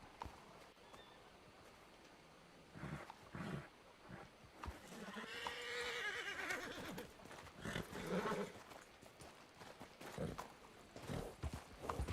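A horse in Red Dead Redemption whinnies loudly with a long, wavering neigh in the middle, surrounded by clip-clopping hooves and scattered thuds, all fairly close.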